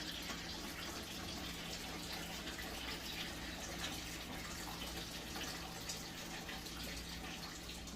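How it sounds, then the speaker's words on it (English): Steady rushing water pours from an electric kettle continuously for several seconds, a constant close-up gush with no pauses. "So I'm gonna use my electric kettle next. Pour this water in here."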